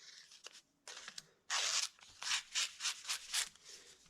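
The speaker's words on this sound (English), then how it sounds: "let's get a paper test going here" Crisp, papery slicing and rasping of a freshly sharpened forged steel slick cutting through paper, in several short strokes of varying length separated by brief pauses.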